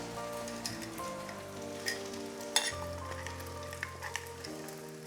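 Pad thai sauce sizzles in a wok kept on high heat, a steady frying hiss with scattered crackles and a brief louder burst as the sauce goes in, close and continuous without talk.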